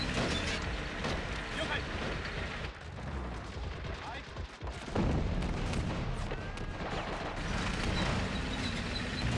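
High-explosive tank shell fire in the World War II strategy game Men of War, loud continuous booming and crackling battle noise with a sharp blast midway, under a voice.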